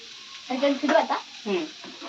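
Chopped onion hits hot oil in a home kitchen pan while puri bhaji is being cooked, giving a close sizzle that spits and splutters in uneven bursts for about a second and a half before settling.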